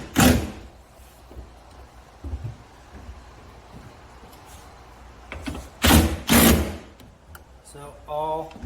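A half-inch socket wrench snugs the bolts on a tonneau cover for a 2022 Toyota Tundra, with sharp metallic clicks and clunks in short bursts and a quick ratcheting run near the end, close by.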